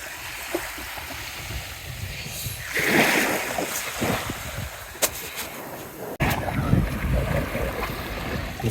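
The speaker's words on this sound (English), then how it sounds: "Listen to those waves." Ocean waves wash up a remote, empty beach at Island Head Creek in Queensland, a broad rushing swell rising near three seconds and returning later, with wind buffeting across the microphone.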